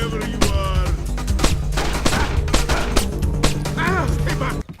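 Gunfire in the Splinter Cell video game during a police station level in Georgia: rapid bursts of shots crack over a busy game soundscape, with a voice talking over the action.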